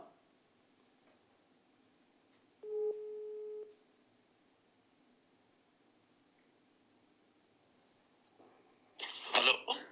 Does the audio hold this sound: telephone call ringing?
yes